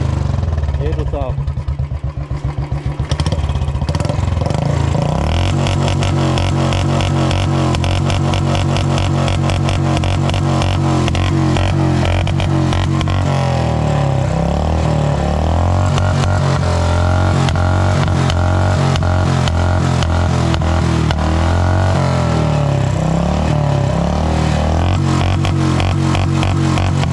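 A modified Royal Enfield Bullet motorcycle engine runs with a steady, loud, thumping idle and rises into sustained revving, heard up close for the whole stretch, with someone talking over it.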